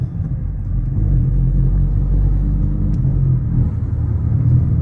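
Low, steady car engine rumble with a turbocharged Mitsubishi 4B11 close by, a smooth droning idle-to-mid rev that holds fairly constant without clear shift breaks.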